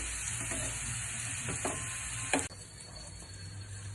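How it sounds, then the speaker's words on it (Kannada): Raw plantain slices sizzle steadily in a frying pan with oil, a continuous close crackle broken by a few soft utensil clicks and one sharper knock near the middle. "ಈ ಥರ ಫ್ರೈ ಮಾಡ್ಕೊಳ್ಳಿ"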